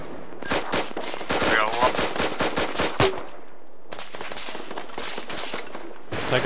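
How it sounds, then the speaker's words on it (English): Bursts of rapid automatic gunfire and single shots crack in Arma 3 combat near a town, dense volleys followed by a short lull and then more scattered fire, loud and close. "Taking fire from the town."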